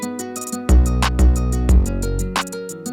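Hip-hop beat with deep kick drum hits ducking a sidechain-compressed bass, each thump briefly dipping the bass attack, alongside crisp hi-hats and melodic backing, loud and close with no voices.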